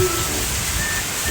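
Rain falling on an outdoor swimming pool, a dense steady hiss of drops on water, close and continuous, without talk.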